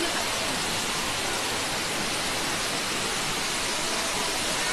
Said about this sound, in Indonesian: Dan air terjun buatannya tuh.